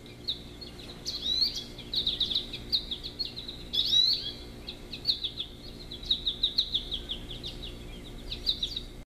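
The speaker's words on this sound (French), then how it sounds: "le chant des oiseaux," Bright recorded bird chirps and warbling phrases from a projection clock radio repeat in quick bursts, moderately loud over a faint steady hum, with no voices.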